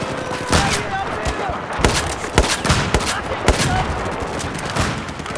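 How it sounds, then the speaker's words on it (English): Bursts of rapid gunfire ring out in Battlefield 4 on a naval tanker map, sharp cracks repeating at an irregular pace and fairly loud, with no one speaking. "Are you just firing down the hallways?"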